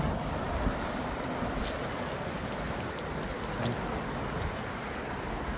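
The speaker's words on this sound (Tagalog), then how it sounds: "Lakas ng hangin." Steady, strong wind roars across the microphone with broad buffeting noise and no clear pauses, no voices.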